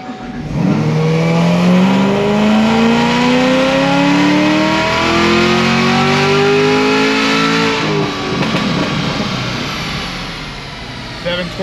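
A tuned high-mileage car engine running on pump gas screams through a dyno pull, revs climbing steadily and loudly for several seconds before backing off, with no talk over it.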